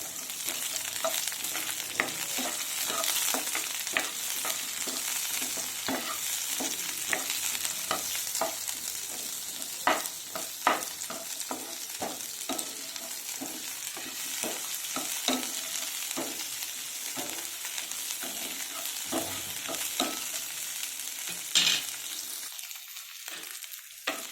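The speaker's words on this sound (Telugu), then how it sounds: "ఇలా ఒక మీడియం సైజు ఒక ఉల్లిపాయ తీసుకున్నాను, ఒక 7-8 పచ్చిమిర్చి తీసుకున్నాను. ఈ రెండు ఫ్రై చేసుకోవాలి." A medium onion and seven or eight green chillies sizzle in oil for ridge gourd tomato chutney, with frequent spatula scrapes and taps against the pan over a steady crackle, close and without speech.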